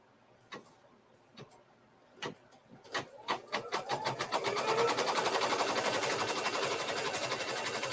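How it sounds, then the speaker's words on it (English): A sewing machine stitches down a string quilt block: a few single clicks speed up into steady, rapid mechanical chattering that runs continuously at close range. "bring it back into my machine,"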